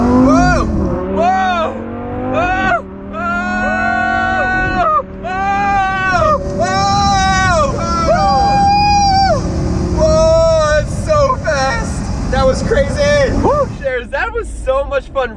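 A Lamborghini replica car launches at full acceleration with a steady low engine roar underneath. Riders shriek and shout excitedly over it almost the whole time.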